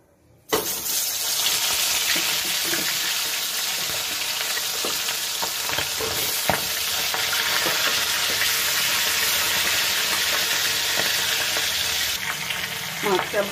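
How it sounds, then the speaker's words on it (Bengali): A fish head sizzles loudly in hot mustard oil in a kadai, a constant close hiss and spatter with occasional pops and scraping, beginning abruptly after a short silent moment. "প্রথমে মুড়োটাকে ভেজে নেব।"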